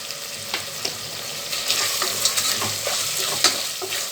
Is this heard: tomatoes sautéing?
yes